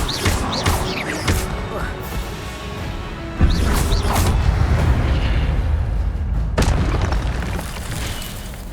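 Incendio fire spell cast in the Hogwarts Legacy video game, a deep booming whoosh of flame swelling suddenly midway and rumbling on loudly, with earlier softer whooshes and a sharp crack near the end amid game ambience.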